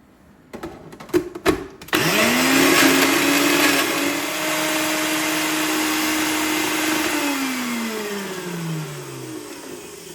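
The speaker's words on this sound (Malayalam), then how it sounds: "എന്നിട്ട് മിക്സിയുടെ ജാറിലിട്ടിട്ട് നമ്മൾ ചമ്മന്തിയെല്ലാം ചെയ്യൂലേ അതുപോലെ ഒന്ന് ചതച്ചെടുക്കുക." Mixer grinder jar crushing chutney ingredients with salt: a few short bursts, then the motor whines up and runs loud and steady before winding down toward the end.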